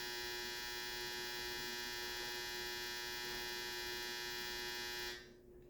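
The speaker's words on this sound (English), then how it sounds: "that is the most annoying buzzer for a dryer I've ever heard in my life" A clothes dryer buzzer drones on at constant pitch for several seconds, then cuts off abruptly near the end, leaving faint background noise.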